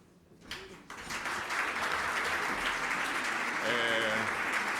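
Applause breaks out at an environmental forum in the Veneto region, starting with a few scattered claps and swelling into steady clapping from the audience, with a voice speaking over it near the end.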